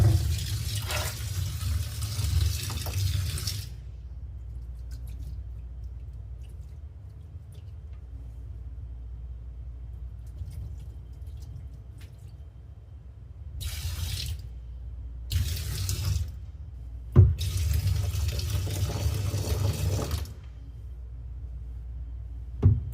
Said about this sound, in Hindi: जो मैंने केटल में पानी गर्म कर रखा था ना वो डाल दूंगी